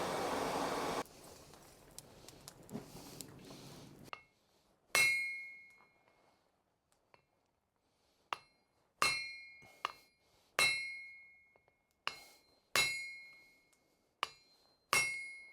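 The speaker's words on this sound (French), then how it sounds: "je vais utiliser ce marteau-là, je vais frapper dessus et je vais créer cette fameuse encoche dont je vous parlais" A hammer strikes a hardened steel axe head to cut a notch, giving about a dozen loud, ringing metallic clinks spaced irregularly. Each one decays slowly in a quiet room after a muffled, noisier opening.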